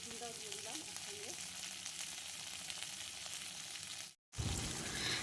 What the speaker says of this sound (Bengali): দিয়ে আমি কিছুক্ষণ ঢাকা দিয়ে হালকা করে ভেজে নেব বরবটিটাকে